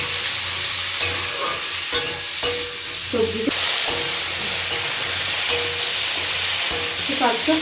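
Radish, carrot and flat beans with turmeric fry in a pan with a loud, continuous sizzle, broken every second or so by the scrape and knock of a spatula stirring.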